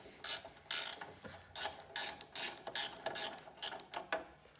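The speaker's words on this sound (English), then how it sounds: "Next, 12mm ratcheting wrench to remove the carriage bolts that hold the chute to its base plate." A 12mm ratcheting wrench clicks in quick bursts while removing carriage bolts that hold a chute to its base plate, about a dozen sharp, close ratcheting strokes in a steady back-and-forth rhythm.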